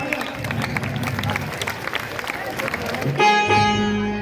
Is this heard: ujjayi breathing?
no